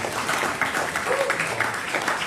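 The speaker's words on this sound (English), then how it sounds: "Please, round of applause for everybody that's helped put this together." Audience applause at the Armed Forces Jam at the Central Florida Tech Grove, a steady wash of clapping from a crowd, moderately loud and sustained, with some voices mixed in.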